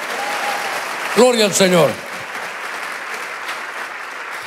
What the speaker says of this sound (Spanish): démosle palmas fuertes, hermano, a nuestro Señor